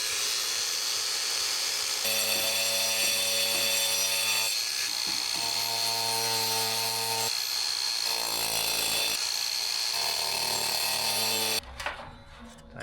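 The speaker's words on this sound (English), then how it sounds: "now I've moved it away for the grinder" A grinder whines at a steady pitch on a pool house building site, shifting tone in stages as it cuts, then cuts off with a clatter near the end.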